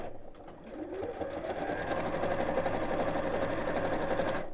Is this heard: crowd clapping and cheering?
no